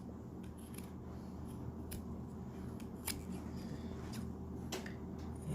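Scissors trim the fabric seam allowance on a small sewing-project tea mat, producing a few faint, quiet snips and crisp cutting clicks spaced over a soft background hiss.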